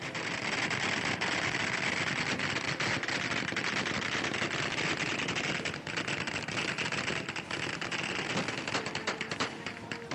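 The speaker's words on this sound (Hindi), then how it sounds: "आसमान में हजारों राउंड गोलियां फायरिंग कर रहे हैं।" Dense, continuous celebratory gunfire fired into the sky crackles in rapid bursts that overlap into a sustained rattling barrage, somewhat distant and unbroken for the whole stretch.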